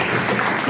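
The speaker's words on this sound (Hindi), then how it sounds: "एक बार जोरदार ताली बजाइएगा।" Audience applause at a cultural programme, a dense steady wash of many hands clapping in a hall for a brief moment.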